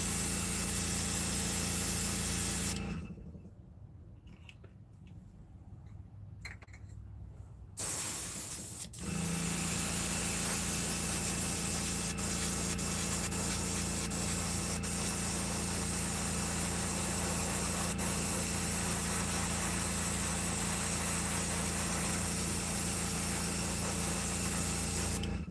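An airbrush sprays paint onto handmade wooden fishing lures with a loud, constant hiss and a compressor hum, pausing once briefly before resuming for a long steady stretch.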